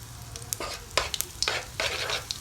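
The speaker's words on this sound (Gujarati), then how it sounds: "1/2 ચમચી હિંગ નાખી આપણે એને મિક્સ કરી નાખીએ" Mustard seeds, cumin and asafoetida crackle in hot oil for pav ragda, heard as a few short, sharp sizzling bursts with light clinks of stirring, close and fairly loud.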